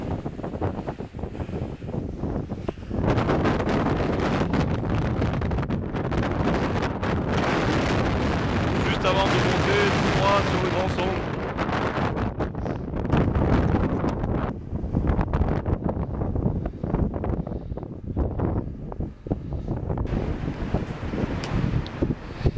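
Strong, steady wind buffets the microphone at a mountain summit on a hike, a continuous loud roar with gusty surges throughout and no voices.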